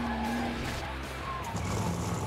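A large, fast production car accelerates hard on a race track, its engine roaring steadily with tire squeal rising over it, loud and close.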